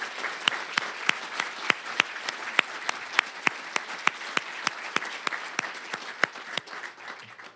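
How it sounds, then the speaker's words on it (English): An audience at an awards event honoring women gives a round of applause, steady dense clapping with a few sharp individual claps standing out, fairly faint and fading at the end. "we need to give them one more round of applause,"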